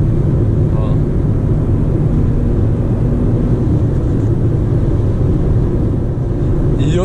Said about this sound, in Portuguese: achei o carro muito barulhento